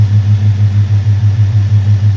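A 2005 Dodge Magnum RT engine fitted with an Injen PF5060P cold air intake runs at a steady idle, loud and close, with an even low throbbing pulse and no voices.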